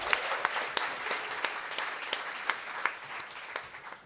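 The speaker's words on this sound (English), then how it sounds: "Clap it up for Red Emma's." An audience at a bookstore event claps loudly and steadily for Red Emma's bookstore, a dense wash of applause with a few sharp louder claps and no talking.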